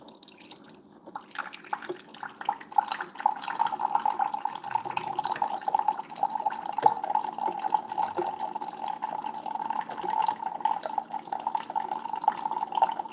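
A 2021 Keurig K Supreme Plus Smart coffee maker brews on its classic setting, with a steady trickling stream and fine dripping into the cup, close and moderately loud, with no talking.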